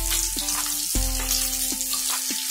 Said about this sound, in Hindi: तो अभी हमने फ्राई में डाला है इसको, 2 मिनट जैसा वक्त हो चुका है।